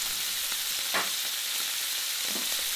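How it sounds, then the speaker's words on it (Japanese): Veal kidneys sear in a hot, roomy frying pan, giving a loud, continuous, close sizzle with a couple of faint utensil touches and no voices. "熱いフライパンにロニオンを入れたら重ならないように少し肉をずらして、このまま触らずに片面しっかり焼いていきます。"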